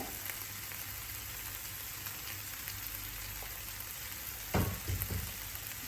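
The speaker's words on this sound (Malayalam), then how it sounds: "നന്നായി ഒന്ന് ഇളക്കുക" Fried okra with curry leaves and salt in a hot pan for bhindi masala: a steady, close, even sizzle throughout, with one or two brief clinks of stirring near the end.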